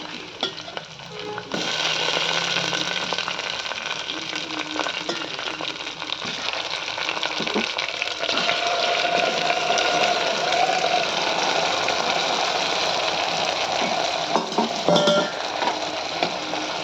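Taro root pieces fry in a pan with onion and green chilli, a steady broad sizzle running throughout with occasional scrapes and clinks of a spoon stirring against the pan, close and fairly loud, no voices.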